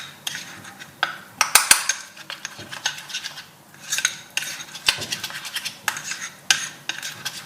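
Softened butter and flour being mixed in a bowl, with irregular scraping and clinking of a utensil against the bowl in quick bursts, close and fairly loud.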